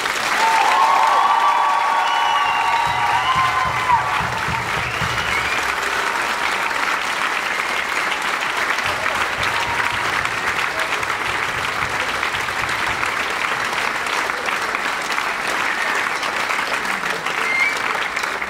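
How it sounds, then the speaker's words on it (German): Sustained applause from a large audience at a youth brass-band music camp in Lambach, a thick, even roar of clapping that holds steady and loud for well over fifteen seconds, with faint voices early on. "Dafür einen herzlichen Dank und ein großer Applaus."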